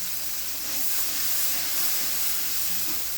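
Hot water hits frying cauliflower curry spices in a pan, giving a loud, steady steaming hiss and sizzle that fills the short moment without any talk.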